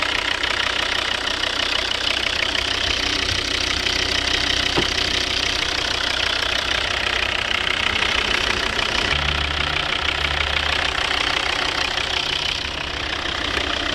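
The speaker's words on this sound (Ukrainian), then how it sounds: "Ось робота двигуна." A 2012 Volvo V60 2.0 D3 five-cylinder turbodiesel with automatic transmission idles steadily up close, a continuous low diesel rumble with a knocking clatter and no talk over it.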